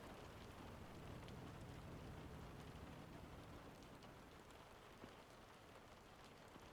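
Steady rain falls alone, a dense, even hiss of drops spattering on surfaces throughout, with no voices or other distinct sounds.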